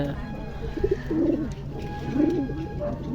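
Pigeons in a pigeon loft coo in soft, repeated rolling phrases, close by, over a low background hum, with faint voices nearby.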